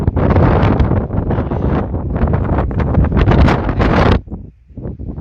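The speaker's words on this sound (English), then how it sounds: "Wind is blowing really nice today." Strong desert wind gusts steadily across the microphone on the Gila Flats near Deming, New Mexico, producing loud rushing buffets that ease off briefly toward the end.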